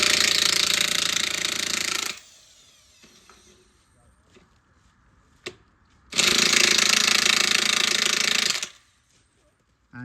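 A power tool loudly drives screws into wooden railway sleepers during track renewal on a miniature lido railway, two harsh sustained bursts of about two seconds each separated by a quieter gap with a single sharp knock.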